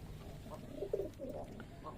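Soft, low coos of a racing pigeon at a pigeon farm repeat a few times at moderate distance over a faint background hum.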